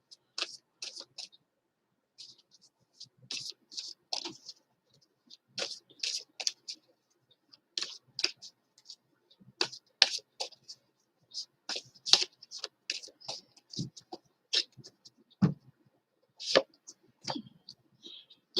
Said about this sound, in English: now I gave this a good shuffle